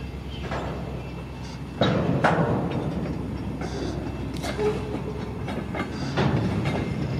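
Freight train boxcars rolling slowly along a siding between East Kingsford and Iron Mountain, with rhythmic wheel clunks and rail clatter, a heavy rumble close by, and no voices.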